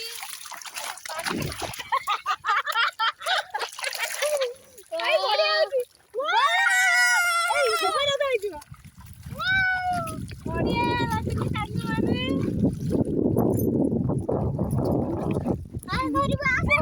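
Children splash and play in a river, with bursts of bright water splatter and churning alongside excited kids' voices and chatter, the splashing growing steady and close in the second half.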